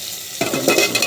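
Papaya pieces dropped into hot oil and spiced masala for a rohu fish curry set off a sudden loud sizzle that keeps crackling and spitting steadily, close up, with no voices.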